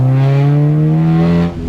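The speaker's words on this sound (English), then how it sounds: "Oh, you can't beat the note of a K-Series" A Honda with a swapped-in K-Series engine revs hard, its raspy note rising in a sustained loud pull before dropping off abruptly at the end, close and alone.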